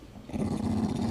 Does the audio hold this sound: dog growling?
yes